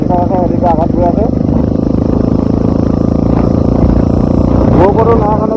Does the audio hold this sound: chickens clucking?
no